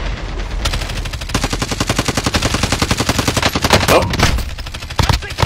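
Rapid automatic gunfire from the video game Call of Duty: Warzone rattles in a long, dense burst of evenly spaced shots, loud and close, with a brief pause and a few scattered shots at the end.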